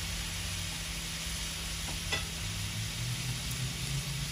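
Steady, close sizzling of onions frying in a pan, a continuous crackling hiss with a brief clink of stirring partway through.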